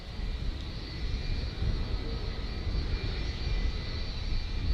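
A 32-year-old Boeing 757 airliner departing Manchester Airport for Faro, a steady broadband engine roar held at a moderate, fairly distant level throughout, with no voices.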